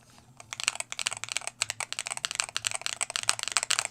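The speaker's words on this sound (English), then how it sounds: "We'll give a sound test comparison between these switches versus my keyboard" Rapid typing on an MCHOSE ACE 68 Turbo Hall Effect mechanical keyboard, crisp clacky keystrokes in quick bursts, close up, after a brief quiet start.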